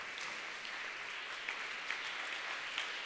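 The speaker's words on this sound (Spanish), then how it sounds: "Démosle un gran aplauso al Señor" A church congregation applauds the Lord during a Spanish-language worship service: a fairly soft but continuous roar of many people clapping together, steady throughout, with a few slightly sharper claps standing out near the end.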